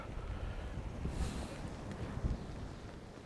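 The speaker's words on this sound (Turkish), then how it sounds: "Soğuk sonuçta rüzgar çarpıyor" Steady wind buffets and rumbles against the microphone, low and gusty with no voices, at a faint overall level.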